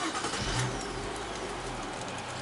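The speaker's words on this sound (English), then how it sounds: "And let's start the car up, see what happens." A car engine turning over and running steadily close by during a diagnostic check with an OBD scanner, the MAF sensor disconnected; a continuous mid-pitched engine drone with no talk.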